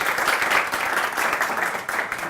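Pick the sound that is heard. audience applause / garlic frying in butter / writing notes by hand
audience applause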